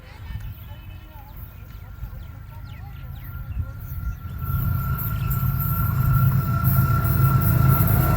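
Train approaching on a railway near Jungshahi, a low rumble building steadily louder from faint to close over several seconds, with someone talking over it in the early part.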